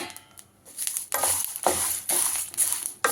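Coconut and curry leaves fry in a pan on low heat, with a steady sizzle under several scraping stirs of a spoon against the pan, close and moderately loud.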